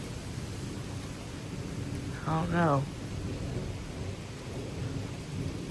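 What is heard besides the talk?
thunderstorm with gusting wind and rain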